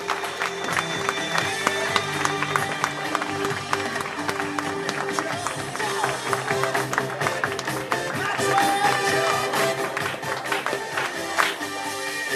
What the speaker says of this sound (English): Can you please give a massive round of applause to Chris Fitzgerald?